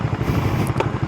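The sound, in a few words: TVS Apache 4V motorcycle engine accelerating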